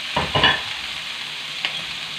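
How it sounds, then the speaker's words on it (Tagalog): Ginger and tomato hit a hot pan while cooking pakbet, the Filipino vegetable stew, giving a couple of quick scraping, sizzling bursts near the start, a steady frying hiss underneath, and one more brief stir later. "lagyan na natin yung ating luya at kamatis"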